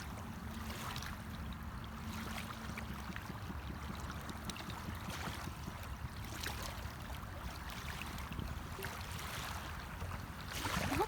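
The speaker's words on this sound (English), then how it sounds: "Not a lot of waves, but just enough for that little bit of background." Small, gentle waves wash softly onto a shelling beach at sunset, a faint, continuous low surf murmur with occasional light splashes.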